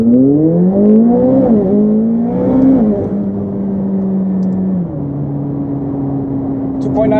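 A car launches from 0 to 60 on Pirelli PZero tires, its engine revving loud and rising in pitch, pausing between gear changes, then holding a steady high drone.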